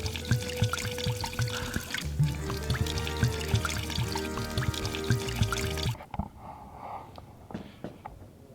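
Filtered tap water pours steadily into a container for cold brew coffee, a continuous close trickle for about six seconds that stops abruptly, followed by quieter faint splashes and drips.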